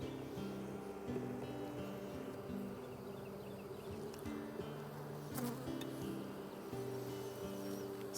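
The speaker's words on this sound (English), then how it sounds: "There's a lot of bees in here" Dense, constant buzzing of many honey bees crowded inside a hive's brood area, a close, steady drone with no talking over it.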